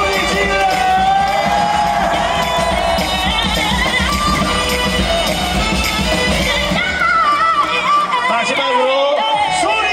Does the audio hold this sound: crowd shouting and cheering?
yes